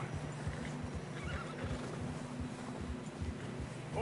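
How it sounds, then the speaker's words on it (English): A horse whinnies over a steady rush of wind, with soft hoof clops thudding irregularly underneath, struggling through fresh snow in the video game Red Dead Redemption. "Horses are struggling."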